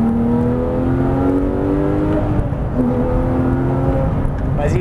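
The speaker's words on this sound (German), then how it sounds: "von Timo Bernhard noch ein bisschen, 2-3 Kilometer durch hier diese wunderbaren Landstraßen kutschieren, und es macht richtig Spaß" Porsche 911 GT3 RS 4.0 driving along winding country roads, its engine holding a steady, sustained drone with gently shifting pitch as it pulls through the curves, loud and close throughout.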